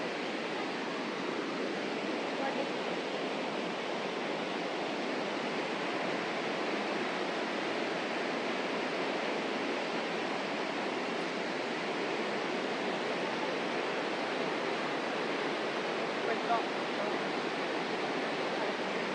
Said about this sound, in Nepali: साथीहरू हेर्न सक्नुहुन्छ कति राम्रो खोला बगिरहेको छ।